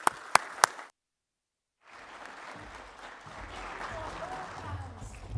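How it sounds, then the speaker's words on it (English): Audience applause fills a hall at a business forum in a Sarajevo hotel, a steady crowd clapping rising after a few sharp isolated claps and a brief silence. "Big applause, please."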